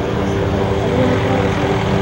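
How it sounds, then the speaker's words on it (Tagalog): Small propeller airplanes take off at a general aviation field, a steady, loud engine drone with a low hum, heard without pause and with no talk over it. "isa-isa nang nag-take off ang mga eroplano sa General Aviation."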